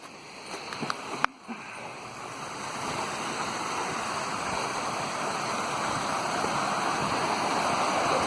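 Water from the Lybid river flows out of an outlet in Kyiv, a steady rushing stream that grows slightly louder, after a few brief knocks at the start.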